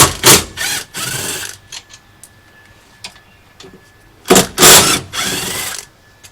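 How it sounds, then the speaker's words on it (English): Screws are backed out of a van's swivel seat base with a ratcheting driver, producing bursts of mechanical clicking and whirring separated by quiet gaps and small metallic ticks. "Next, we want to remove all these screws."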